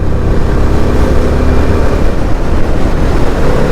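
Keeway K300R motorcycle being ridden, a steady loud roar of engine and wind rushing past the rider throughout, with no pauses.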